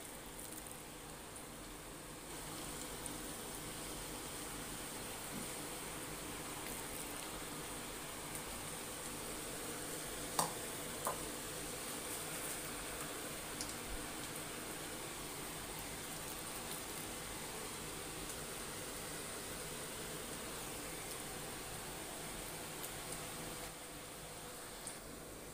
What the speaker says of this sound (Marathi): भजी तळते वेळी तेल आपलं ना गरम असलं पाहिजे